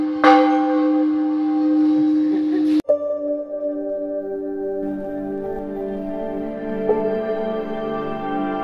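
A large bell is struck twice, each strike ringing loud and clear with a long, humming decay that lingers after the second hit.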